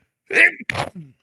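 A single sharp sneeze bursts out up close and loud, followed by a short breathy tail and a brief vocal murmur.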